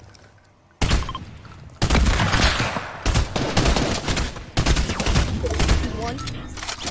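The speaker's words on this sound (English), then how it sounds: "There's someone shooting." Gunfire in a Fortnite squads match, rapid bursts of close shots continuing over several seconds with a player's voice talking briefly over them.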